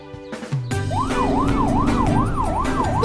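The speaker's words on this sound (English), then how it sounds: "Morph into an ambulance." A cartoon ambulance siren wails in a loud, steady rise-and-fall, cycling about five times over a busy musical background after a short lead-in.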